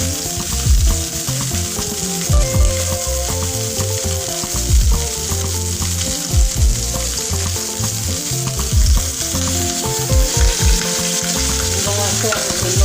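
Butter melting and sizzling in a frying pan, a loud continuous crackle broken by repeated scraping knocks of a utensil moving through the pan, with no one speaking.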